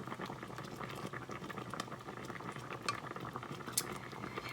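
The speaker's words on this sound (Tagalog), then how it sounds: "So, i-simmer na natin." Sapsap fish with tamarind and bitter gourd simmering in a pot, a continuous close bubbling and gentle patter with occasional faint clinks.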